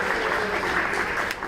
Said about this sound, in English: Give yourselves a big round of applause for tonight.